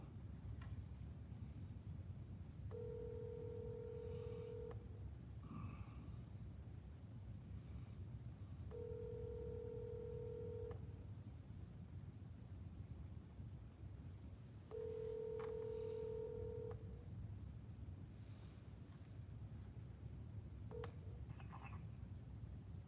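Telephone keypad tones sound as three separate bursts of quick dialing beeps, spaced several seconds apart, over a faint, steady room hiss with a lone beep near the end.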